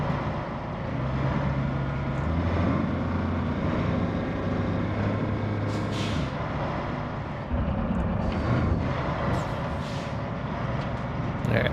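A truck engine with a whistling turbo drones steadily in the video game RoadCraft, a continuous mid-loud rumble with shifting tones and brief hissy bursts.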